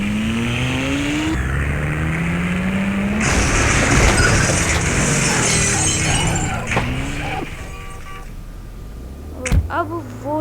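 Fast car in a racing and chase video game, engine surging and revving across the scene with crash and impact-like bursts near the end, loud throughout, with game music or effects beneath.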